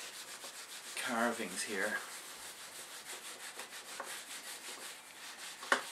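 Wire wool rubbing and scrubbing stripping residue out of the carved grooves of a wooden reed organ case, a steady scratchy abrasive rasp close up, with brief speech partway through.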